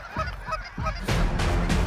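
Geese honk in flight over Alberta, a flock calling in repeated nasal bursts that swell louder toward the end, close overhead and outdoors with no talk.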